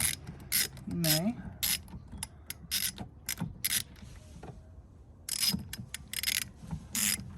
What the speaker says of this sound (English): Definitely gonna need the extension if you want to use a ratchet for this